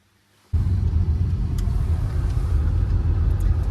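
After a brief quiet start, a car's interior suddenly fills with a loud, steady low road rumble and engine drone while driving to an event setup, continuing unbroken with a few faint rattles.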